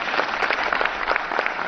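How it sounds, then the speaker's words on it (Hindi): Brisk, steady applause from the audience at a film festival closing ceremony, fairly loud and close, a continuous patter of many hands with no talking. "जोरदार तालियों के साथ हम उनका स्वागत करेंगे"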